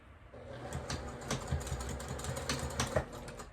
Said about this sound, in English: And I'm back stitching at the beginning and the end of all seams.